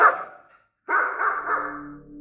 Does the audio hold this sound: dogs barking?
yes